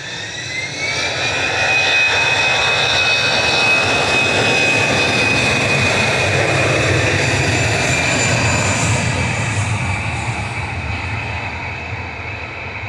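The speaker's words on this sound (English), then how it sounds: "Finnair is about to disappear into thin air, or back to Helsinki with Flight 1362 A320 Classic on the roll now" A Finnair Airbus A320 Classic on its takeoff roll at Manchester Airport, its jet engines roaring loud and steady with a rising whine that swells and then slowly fades.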